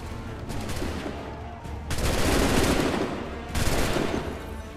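Bursts of cannon fire in the Assassin's Creed 3 video game, a dense rolling barrage of booming blasts in three loud waves with brief lulls between, no talk heard.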